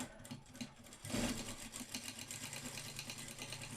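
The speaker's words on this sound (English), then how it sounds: "Now on the right side of my fabric, I'm going to be stitching by 1/4 of an inch from here downwards." A sewing machine runs steadily, stitching a quarter-inch seam down fabric for a simple elastic girl's skirt, with a close, continuous mechanical whir that swells slightly about a second in.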